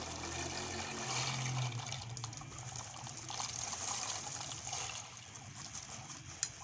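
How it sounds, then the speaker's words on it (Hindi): Half a kilogram of macaroni going into a pot of boiling water, with a steady close watery rush and trickle throughout and no talking. "पानी को एक बॉयल आ गया है तो अभी इसमें हम जो है ना वो मकरोनी डालेंगे"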